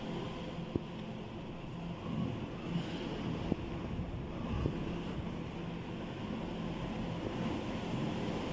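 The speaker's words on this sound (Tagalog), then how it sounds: "Lakas ng hangin sa labas." Strong wind during a storm in Abu Dhabi rushes outside as a constant low roar, with a few faint knocks and no talking.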